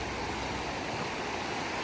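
A river rushes steadily along a forested trail near Madison Falls in Port Angeles, Washington, a constant broad wash of flowing water heard alone.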